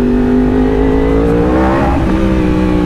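Out on a road in Thailand, a motorcycle engine drones loud and close as the bike rides along, its pitch climbing steadily as the rider revs up under strong wind rush.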